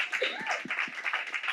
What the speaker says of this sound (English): Can we give a round of applause to Hirsch as well?